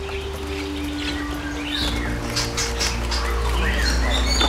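A male white-rumped shama gives sharp, scratchy alarm notes near a nest in leaf litter among rocks, short chirps rising out of a loud steady outdoor hum.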